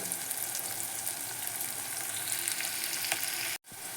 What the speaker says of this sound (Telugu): ఉల్లిపాయ మంచిగా వేగిపోయినాయి మనకి తాలింపులో.